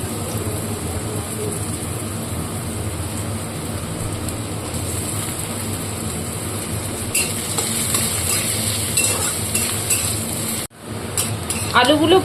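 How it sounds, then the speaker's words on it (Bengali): Chopped potatoes frying in oil make a constant crackling hiss like rain, with a short sharp dip near the end followed by a few louder crackles. "এবার আমি এই আলু কুচিটাকে তেলের মধ্যে দিয়ে দেবো।"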